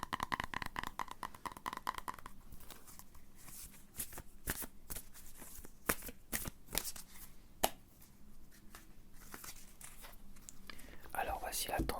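Tarot cards being shuffled by hand for a reading, soft rapid riffles and flicks close to the microphone, with sharp snaps scattered through and quiet whispering underneath.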